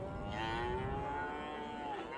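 A cow on open grazing land near small spring-fed lakes gives one long, drawn-out moo lasting about two seconds, clear and steady over faint outdoor ambience.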